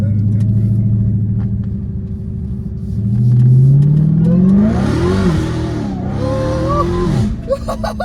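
An 800-horsepower Hellcat Redeye's engine rumbles steadily up close, then swells into a loud rising rev, followed by two more sharp throttle blips that climb and fall before settling.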